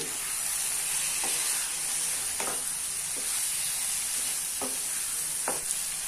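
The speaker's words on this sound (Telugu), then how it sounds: "ఇప్పుడు మష్రూమ్స్ ఇందులో వేసేసుకోవాలి. వేసుకుని ఒకసారి అంతా కలుపుకోవాలి." Mushrooms stirred into a hot pan with green chilli paste for a simple Telugu mushroom curry, giving a steady close sizzle broken by a few soft scraping stirs, with no talking.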